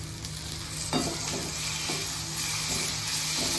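Curry leaves hit hot oil in a pan for crispy potato vada, giving a steady, close sizzle and crackle with a few louder spitting bursts and no voices.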